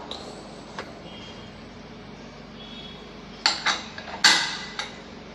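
Metallic clanks and clinks of a pressure cooker lid being closed and its weight set on, a few sharp knocks close by in a quiet kitchen.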